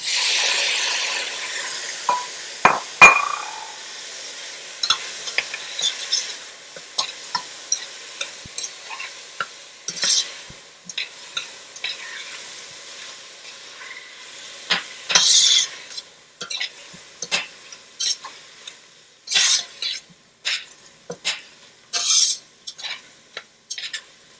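Tomatoes go into a hot pan and sizzle, while a utensil stirs and scrapes against the cookware in repeated close clicks and knocks during salmon and basil Alfredo pasta cooking, with no talking.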